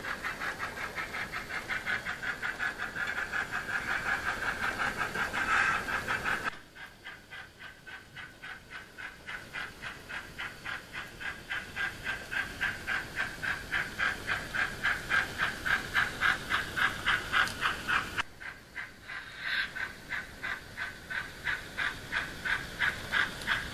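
Two model steam locomotives double-heading on a layout pull away with three short coaches, a steady hissing chuff with a fast rhythmic beat that pauses twice and restarts, close and fairly even in level.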